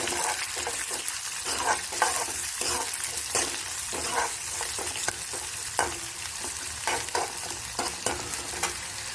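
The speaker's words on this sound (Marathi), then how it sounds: "कांदा पण चांगला ब्राऊन करून घ्यायचा आहे" A small onion browning in a frying pan, dense steady sizzling with repeated stirring scrapes in an uneven rhythm, close and fairly loud with no talking.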